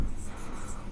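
Writing on a board during a maths lesson on linear equations, a brief soft scratching stroke with light talk underneath.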